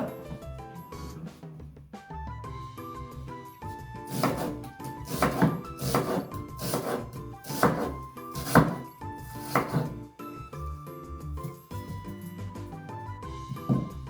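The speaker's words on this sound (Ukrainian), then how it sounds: "Цибулю нарізаю грубими шматочками." A knife chops an onion into coarse pieces on a cutting board, a run of evenly spaced thunks in the middle, over soft background music.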